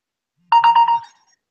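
A mobile phone ringtone chirps in a quick burst of four electronic pulses and then stops, close and loud in a quiet room.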